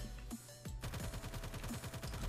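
Rapid automatic gunfire crackles in a WWII battle in the video game Ravenfield, a steady close burst of evenly spaced shots over a dense background of distant battle noise, with no talking.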